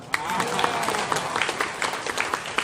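A seated crowd at a tourism group's inauguration event in Batam gives dense, lively applause, with individual claps popping through the steady wash of sound.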